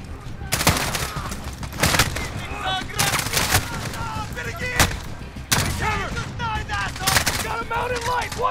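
Bursts of gunfire in Call of Duty: Modern Warfare, PS5, during a London assault on a gunner's nest holding a second deck, crack out in loud repeated volleys roughly every second, with shouted combat talk and battle noise layered underneath throughout.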